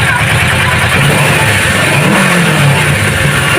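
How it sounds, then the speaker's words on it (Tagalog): A stock Kawasaki 650R motorcycle engine revs lightly while warm, a steady mid-pitched engine drone with small rises in pitch, close and loud throughout. "Medyo mainit pa naman to, so pwede natin yung konting rev tayo ng konti."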